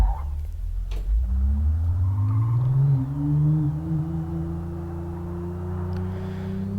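A car engine revs and turns in the Live for Speed racing game, its tone rising steadily as the car accelerates through a turn, then holding a loud, sustained drone with no talking.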